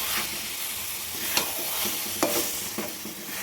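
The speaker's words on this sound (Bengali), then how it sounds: "এইরকম মধু দিয়ে নেড়ে দিলাম।" Amla chyawanprash mixture stirred with honey in a pan: a continuous low sizzle with periodic scraping strokes of a spoon against the pan, close and fairly even, no voices.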